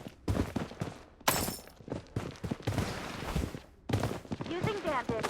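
Blood Strike video game combat: repeated sharp gunshots and short automatic bursts at close range, irregular and punchy, with a loud crack and further rapid fire later, mixed with game effects and radio-style voice callouts.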